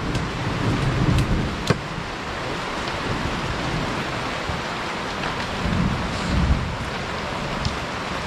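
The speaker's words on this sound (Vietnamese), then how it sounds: "Mưa to." Heavy rain pours steadily through a forest, a dense continuous hiss with occasional thunder rumbles and a few sharp cracks, no voices.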